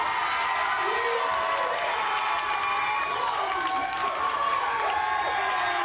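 A wrestling arena crowd erupts in loud, sustained cheering and applause after a victory, with whoops and shouts layered over a dense, steady roar throughout.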